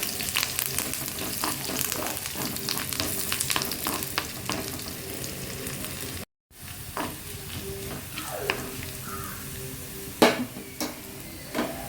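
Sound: sizzling as tempering is poured onto fried onions

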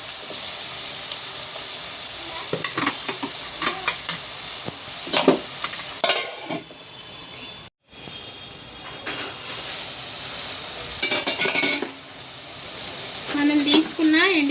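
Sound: dried fish frying in a pan

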